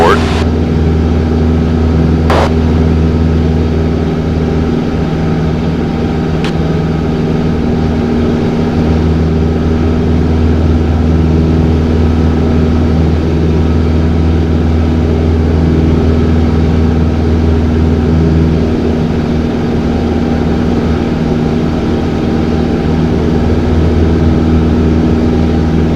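A Cessna 162 SkyCatcher light aircraft drones steadily in flight, a loud, constant low engine and propeller hum filling the cabin, with talk over it.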